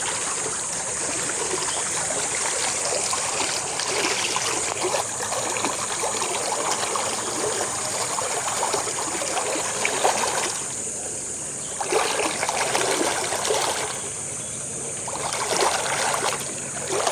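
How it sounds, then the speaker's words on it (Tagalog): Steady rushing of water pouring and splashing from three outlets, continuous and fairly loud, with a constant broadband wash and slight dips in intensity. "Tatlo pala pinanggagalingan ng labas ng tubig."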